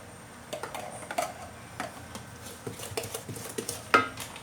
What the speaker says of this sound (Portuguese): E agora eu vou misturando a massa com leite do coco